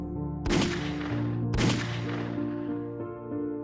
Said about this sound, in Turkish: İki tane patlama sesi duydum.